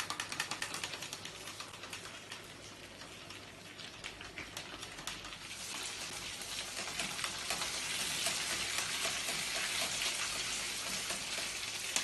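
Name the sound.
potato fish balls frying in oil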